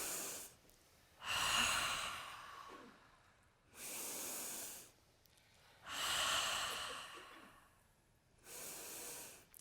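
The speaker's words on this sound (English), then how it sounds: "let's do some breathing this time." Slow, deliberate breaths in a guided breathing exercise done seated with crossed legs, four long airy exhales or inhales spaced a couple of seconds apart, close and soft with quiet pauses between.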